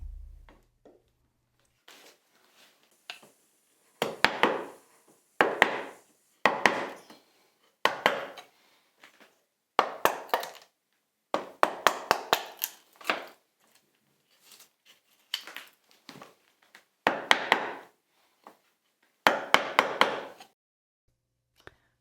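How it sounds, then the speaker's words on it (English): Bench knife paring and smoothing the bottoms of hand-cut dovetail sockets in a wooden board, giving a series of short close scraping and chopping strokes in bursts with brief pauses between them. "Tom is cutting out the bottom of the cuts with his bench knife just to smooth it out a bit."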